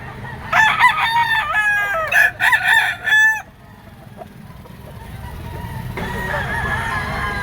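Roosters crow loudly at a busy chicken market in Lipa, several long warbling calls in quick succession, then a quieter stretch before another crow starts up nearby amid low crowd noise.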